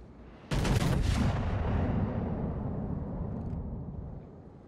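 Naval guns fire in World of Warships from a Vittorio Veneto battleship, a sudden loud booming salvo of several close-spaced blasts followed by a long rumbling decay that slowly fades.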